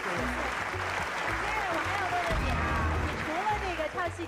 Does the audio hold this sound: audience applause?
yes